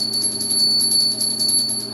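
A small bell rings with a steady, sustained high tone, close and fairly loud, shimmering on without a break.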